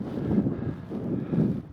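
Steady wind buffeting the microphone in low, rumbling gusts that swell and ease, with no other sounds, on an open hilltop in the North Pennines.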